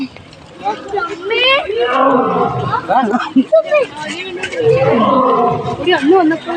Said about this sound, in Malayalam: അവിടെ ഗർജനൊക്കെ കേൾക്കുന്നുണ്ട്. സിംഹത്തിൻ്റെ ആയിരിക്കും.